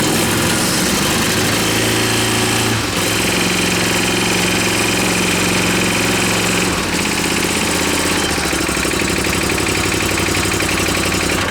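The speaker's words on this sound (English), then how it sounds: "Let's do a cold start." Small engine cold-starting and running at a loud, rough idle, with a steady chugging drone and brief dips in pitch as the throttle changes, heard close up with no talk.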